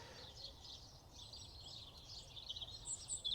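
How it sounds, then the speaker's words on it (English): Outdoors in nature, many birds sing and chirp together in a faint, continuous chorus over low background rumble, with no voices. "There is currently so much bird song right now."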